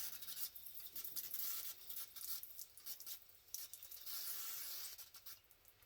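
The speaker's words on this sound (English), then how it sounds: "let me spray this down, see if I can clean it off" Aerosol cleaner hisses in short, repeated bursts onto a Mopar points distributor, faint and close, with brief pauses between sprays.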